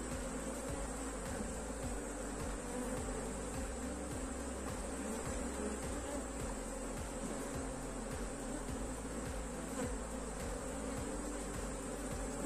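A honey bee swarm hums at the hive in a dense, continuous buzz, steady and close, with no voices over it.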